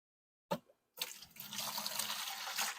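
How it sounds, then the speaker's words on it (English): Water siphons from an aquarium tank into a lower bucket, starting with a brief splash and a short pause, then settling into a steady, continuous gushing pour heard up close. "So let's siphon from here."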